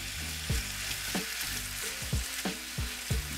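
Ground turkey sizzles steadily in a skillet, with a constant frying hiss and a handful of soft scraping stirs spaced about every half second.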